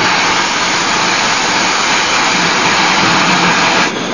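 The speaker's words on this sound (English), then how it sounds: "the sound of the steam piston is all around at the Antique Engine Museum in Vista, California" Working antique steam engines in a museum hall in Vista, California, giving a loud, steady mechanical roar and hiss that fills the space without a break, then dips slightly near the end.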